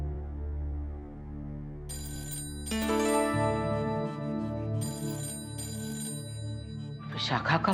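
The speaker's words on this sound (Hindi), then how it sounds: "विशाखा का फोन होवे को।" A telephone rings in repeated electronic bursts, fairly loud and close, over a low steady hum, ending with a brief rustle.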